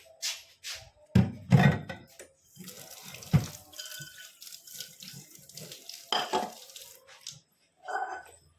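Tap water runs and splashes into a sink for washing, in uneven gushes with a few knocks and drips, close by and loud, with no talking.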